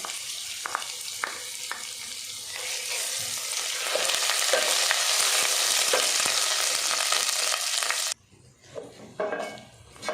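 Ginger and garlic sizzle and crackle loudly in hot oil for about eight seconds, a steady hiss with occasional stirring clicks, then quiet abruptly.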